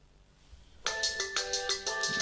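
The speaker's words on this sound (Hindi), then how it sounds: "जैसे ही मैं प्ले साउंड पर क्लिक करूँगा इसके ऊपर बेल बजना शुरू हो जाएगी" A mobile phone with its screen off rings loudly after a remote Find My Mobile play-sound command. The bright, repeating ringtone cuts in abruptly after a quiet start and pulses in a steady rhythm, alone and close by.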